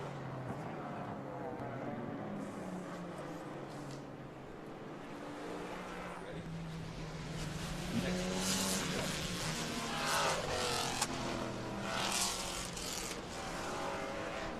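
Race cars run on the Road America circuit during a GTS round, engines droning and passing at a distance, swelling louder toward the end, with faint talk underneath.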